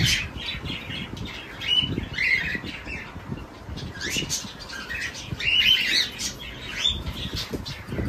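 Cockatiel chicks squawking in a pet aviary, a busy chorus of harsh, overlapping calls with wing flaps and rustling, fairly close and continuous without talk.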